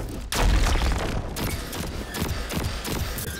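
Gunfire in an online first-person shooter match: a burst of loud, heavy shots with a booming low end, then scattered cracks and reports continuing near and far throughout.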